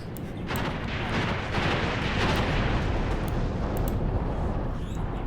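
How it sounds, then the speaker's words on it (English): Katyusha rocket barrage explosions in a war video game set in the Angolan Civil War, a dense, sustained roar of blasts and rumbling impacts rolling on without pause, fairly distant and broad. "There we go, another barrage of Katyushas."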